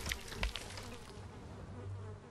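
Bees buzz in a honey cave in the video game SkySaga, a continuous droning hum heard up close with a few sharper clicks at the start and no speech over it.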